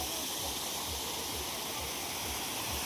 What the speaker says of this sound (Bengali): কৃত্রিম জলপ্রপাত।